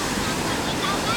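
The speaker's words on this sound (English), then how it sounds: "A few little waves." Small sea waves break on a beach on the coast of Vietnam: a continuous close wash of surf mixed with wind rumble on the microphone, fairly loud, with no clear speech.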